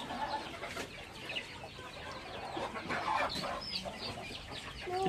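Chickens cluck faintly at a farm, with scattered soft calls and squawks over a quiet, noisy background throughout.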